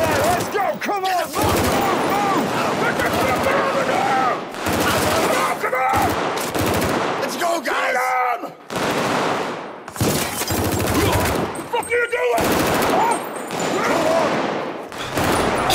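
Loud, dense gunfire from a rifle in the video game Payday 3 rattles in rapid bursts throughout, broken by brief pauses, with voices shouting and talking over the shooting.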